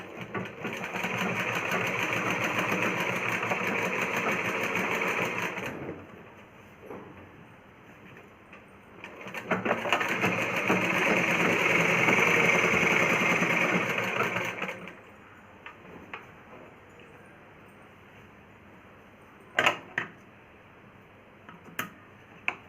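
A sewing machine stitches a blouse in two long, steady runs of rapid mechanical whirring, with quieter pauses and a few sharp clicks between them.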